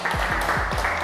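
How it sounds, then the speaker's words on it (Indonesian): Brief burst of group clapping at a productivity instructor training session, a few sharp hand claps in quick succession over room noise. "tepuk tangan dulu teman-teman semua"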